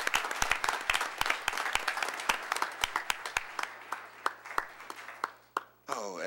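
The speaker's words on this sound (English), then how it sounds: "they deserve another round of applause" Audience applause at a council meeting: a fairly small group clapping in separate, distinct claps that thin out over about six seconds, then stop with a brief noise at the end.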